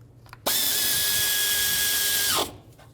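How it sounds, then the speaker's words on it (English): A power tool, likely an impact driver or drill, runs up and spins fast while tightening 14 mm bolts on the engine mount of a 2002-06 Toyota Camry, giving one loud sustained whir of about two seconds. "Now with all of these in, I will start by tightening these three 14s"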